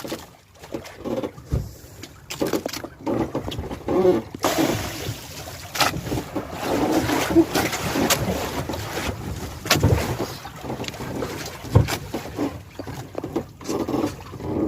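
Waves slapping the hull and gusting wind buffet the microphone aboard a squid fishing boat at sea between Negros and Cebu, with uneven rushes and occasional sharp knocks, fairly close and without talk.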